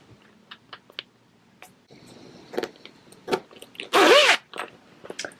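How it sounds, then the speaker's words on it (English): Zipper on a sewn fabric book bag is handled and slid open, with small scattered clicks and rustles, faint light zips, then one loud, drawn-out zip near the end. "bring your zipper down to the other end and open that up"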